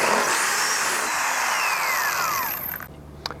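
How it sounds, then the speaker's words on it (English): A power drill bores a hole through a 2007 Ski-Doo REV 159 snowmobile tunnel with a 3/8 bit, a loud continuous high whine with a falling pitch sweep, ending abruptly in near silence and a brief click. "so we'll go ahead and drill that hole out"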